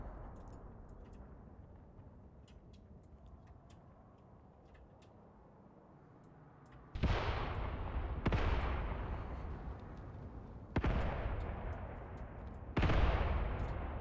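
Artillery shells land in the tank warfare game Graviteam Tactics: a low rumble builds, then four heavy booming impacts strike several seconds apart, each with a long decaying tail, fairly distant and with no talk over them.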